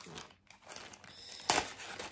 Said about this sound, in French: j'ai pris mes petits ciseaux à broder pour dire de pouvoir couper le plastique assez facilement